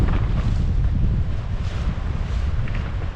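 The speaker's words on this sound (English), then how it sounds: "it's going to be really windy" Steady, loud wind roaring and buffeting the microphone outdoors, with a low rumble throughout and no voices.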